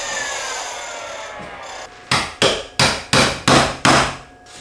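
A hammer taps wooden trim into place against shims during a home rebuild, with a quiet scrape first, then six sharp, evenly spaced knocks close by, each ringing briefly before fading.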